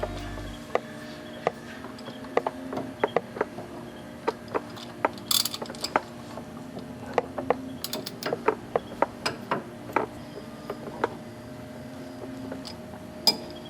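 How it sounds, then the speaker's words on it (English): A torque wrench tightens bolts on a Humvee engine during crank pulley work, with crisp ratchet clicks repeating irregularly over a low steady hum, close and distinct. "come back with the torque wrench and make sure those are 37"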